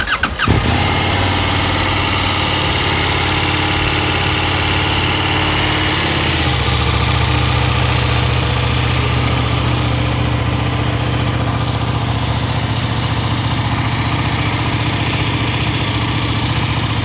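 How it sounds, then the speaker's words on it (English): A KTM 1390 Super Duke R motorcycle with a low battery cranks briefly, fires up and settles into a loud, steady idle, whose tone drops slightly partway through, recorded close with no voices. "So hopefully the bike will start now because the battery is a bit on the low side,"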